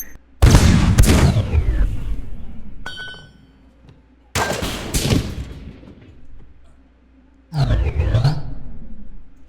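A cannon booms in a pirate-themed video game and sets off a chain of low-explosive barrels, giving three big blasts with rumbling, sweeping decays that fade between hits, plus a brief crackle in the middle.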